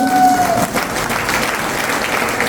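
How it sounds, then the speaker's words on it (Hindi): Audience applause from newcomers at a seminar in Chandigarh, a brief burst of clapping from the room that fades into a steady crowd wash, with a faint tone at the start. "यस, तालियां बजा सकते हैं आप लोग जो नए आए।"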